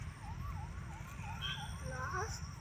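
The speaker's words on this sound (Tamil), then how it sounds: "ஆம்புலன்ஸ் வர போகுது ப்ரோ" An ambulance siren wails near a main road, its pitch sweeping up and down steadily under a constant low rumble of traffic, with a few brighter whooping tones overlapping toward the end.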